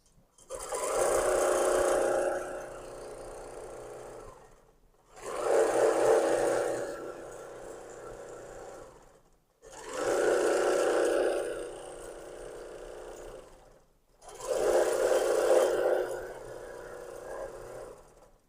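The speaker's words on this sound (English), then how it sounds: "The machine will move itself back to the start point, and it's going to start stitching out." A Pro-Stitcher computerized quilting machine stitching out a design: four long bursts of steady mechanical whirring, each a few seconds long and separated by short pauses, close and moderately loud.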